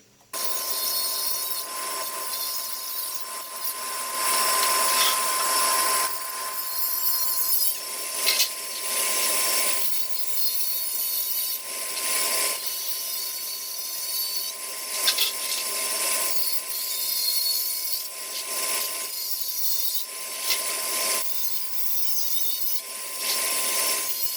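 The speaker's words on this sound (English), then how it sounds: "We just chop them off as we can with the other ones." A power tool grinds and cuts off the sharp tips of self-drilling metal screws, flush, steadily for a long stretch, the whine rising and dipping slightly, close up and with no talking.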